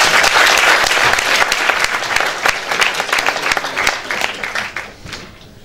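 Applause from a lecture audience for the speaker, a full, loud round of clapping that holds steady, then breaks into scattered individual claps and fades out near the end.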